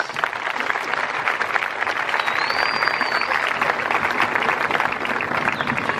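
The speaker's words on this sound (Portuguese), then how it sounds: "uma salva de palmas" A large crowd applauds steadily for about six seconds at the outdoor 24th Grito dos Excluídos gathering of the Diocese of Sobral in 2018, a dense, even clatter of many hands with no break.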